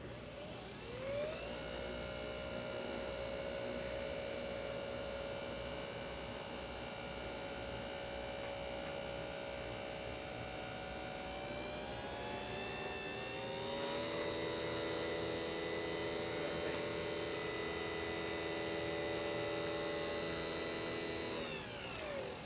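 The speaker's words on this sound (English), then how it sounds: "this frother will automatically shut off too when it's done" A Nespresso milk frother whirs with a steady, fairly faint motor hum, its pitch shifting partway through as the milk thickens, and it runs continuously for over twenty seconds before shutting off automatically near the end.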